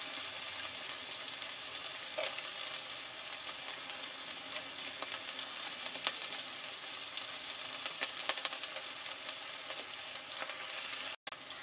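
Chopped garlic fries and sizzles steadily in hot oil in a pan while a village-style liver dry roast is being cooked, a continuous close crackle with occasional stirring clicks and no talk.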